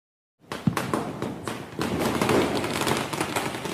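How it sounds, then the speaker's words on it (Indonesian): Diwali firecrackers popping in a rapid, irregular series of sharp cracks, loud and close, over a continuous crackling background. "Katir menyalakan petasan dengan penuh kebahagiaan"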